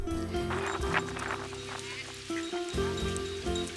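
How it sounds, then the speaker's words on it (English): Swans and other water birds honk and call repeatedly in a noisy cluster at Christchurch harbour, overlapping nasal cries close by with no talking. "there were swans and other water birds and many sailing boats"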